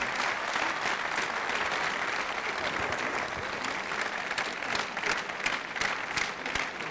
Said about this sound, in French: Et je demande des applaudissements aussi.